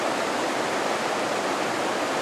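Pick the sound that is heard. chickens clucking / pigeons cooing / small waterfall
small waterfall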